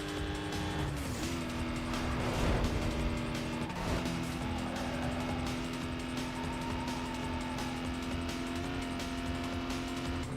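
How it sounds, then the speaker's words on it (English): Car engine in the Need for Speed racing game, a steady sustained drone with a launch surge early on, then a constant near hum with faint shifting tones, no voices. "I would say I do like the engine sound of this car"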